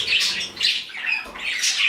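Close, loud squawks from a pet bird busy with a pine cone foraging toy, about four harsh, rasping calls in quick succession.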